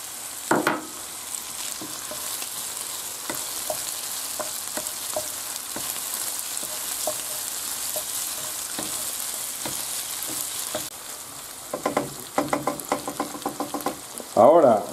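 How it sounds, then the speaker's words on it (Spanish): Bacon sizzles and fries steadily in a pan for a Swiss chard dish, with scattered stirring clicks and a burst of utensil scraping near the end. "ahora echamos el bacon y se tiene que dorar"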